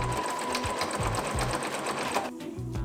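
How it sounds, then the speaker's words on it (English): A sewing machine stitches quilt pieces together with a tiny zigzag stitch, its motor whirring in steady rapid bursts and pausing briefly before starting up again, close and loud with no talking. "First, we will sew all the sides, and then we will go for the tops."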